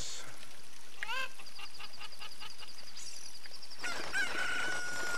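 A rooster crows in The Legend of Zelda: Ocarina of Time: a rising, stuttering game cock-a-doodle-doo, then a string of short repeating electronic tones and a later burst of brighter fowl-like calls with a sustained tone, all fairly quiet.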